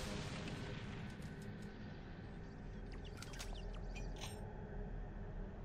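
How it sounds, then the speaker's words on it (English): A rocket launcher fires in the video game Doom 3, a deep rumbling blast with a crackling tail over a steady low background drone, moderate in level and with no talk. "Now, I busted out this rocket launcher for a very good reason"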